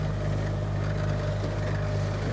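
A boat's engine drones steadily on the water at Vuda Marina, Fiji, a constant low hum with a faint whir above it and no talk.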